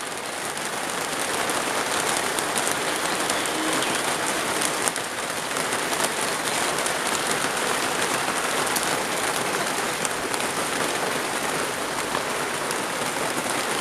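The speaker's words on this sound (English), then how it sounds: "It's hard to distinguish what it is with all the rain falling." Heavy rain pours outdoors on a morning in Ireland, a dense, continuous hiss and patter that stays loud and even for the whole stretch with no voices.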